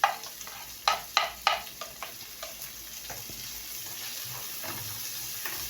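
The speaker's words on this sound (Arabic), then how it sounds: "نقلبهم شويه كده مع البصله" Onion and parsley sizzle in a frying pan, with several sharp scraping knocks from stirring at the start, then a steady hiss of frying, close by and with no talk.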